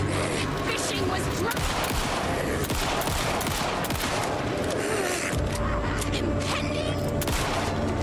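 Gunfire in the video game Alan Wake 2, dense bursts of rapid shots and loud cracks in quick succession, close and sustained, with speech mixed in.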